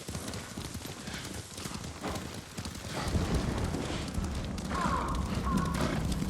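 Steady clip-clop of horse hooves at a walking pace in the video game Ghost of Tsushima, with a light rumble of ambience behind, no voices.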